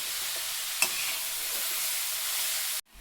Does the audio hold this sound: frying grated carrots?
yes